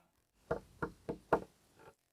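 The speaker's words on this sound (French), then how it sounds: "Le Messie frappe à la porte." Five knocks on a door in an uneven rhythm, the last one softer, close and clear against silence.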